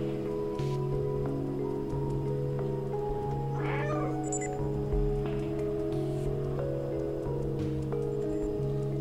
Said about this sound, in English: so the sentinels are drawn to my meows